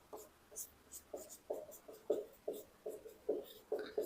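Pen strokes scratch on paper while a maths solution is written out, a steady, regular rhythm of short close strokes about twice a second, soft and alone.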